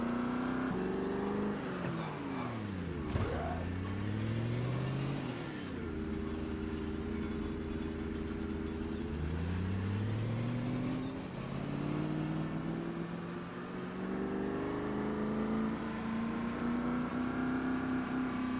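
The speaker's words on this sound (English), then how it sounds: "Listen to that engine." A car engine revs hard in the Project Zomboid video game, its pitch sweeping up and down repeatedly as it strains through gears, loud and continuous with no talking.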